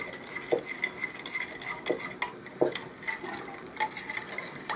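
A metal MRE spoon stirs a granular purple drink from a French 24-hour military ration, with repeated close scraping strokes and light clinks against the container.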